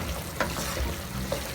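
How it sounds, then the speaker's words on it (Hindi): Garlic frying in a pan over a high flame while being stirred, a steady soft sizzle with a few brief scraping stirs, close and fairly quiet, no talking. "अब हम चूल्हा तेज़ करके इसको लहसुन को मिक्स करके भूनेंगे"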